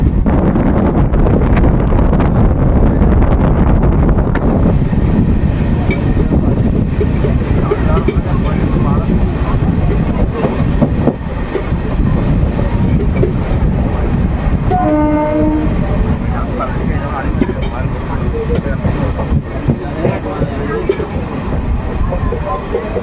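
A MEMU local train from Bankura to Howrah rolls along at speed with a steady heavy rumble and rattle, a short horn-like tone partway through, and people talking over the noise.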